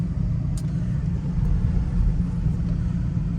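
Low, steady road rumble inside a 2007 Mercedes SL550 during a test drive, a quiet, smooth engine hum that holds a constant level throughout, with a few faint clicks and no talking.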